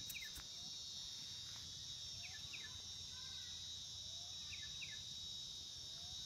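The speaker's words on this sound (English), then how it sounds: "Listening to the song of the insects, the song of the birds." Crickets trill steadily outdoors while faint, scattered bird chirps sound in the background, all quiet and continuous.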